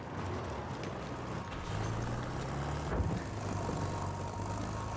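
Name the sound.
car engine in a video game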